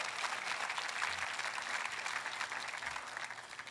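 Congregation applauding during a church sermon, sustained even clapping from a sizable crowd, fairly faint and heard on its own.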